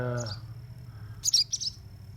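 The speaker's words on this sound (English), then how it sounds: "hey birds, what you do?" Short bright bird chirps in two bursts, one early and a louder cluster toward the end, over a low engine-like hum.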